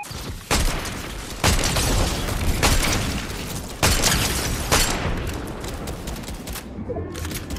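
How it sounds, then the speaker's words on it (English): Several loud gunfire bursts from a Fortnite match, spread across the stretch with gaps between volleys, some sharp booms standing out, with faint voices in the background. "shots behind us"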